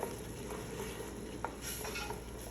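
Food with spices, including baharat, salt and cinnamon, is stirred in a pan, giving a quiet steady frying hiss with a few soft scrapes and light taps of the utensil.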